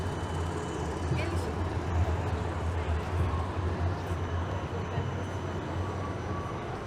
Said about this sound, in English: There's a tram.